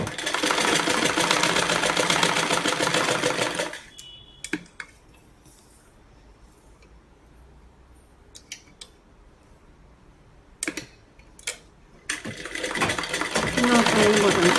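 Sewing machine stitching blouse fabric runs in a loud steady whir for several seconds, stops through a quiet stretch with a few small clicks, then starts up again near the end.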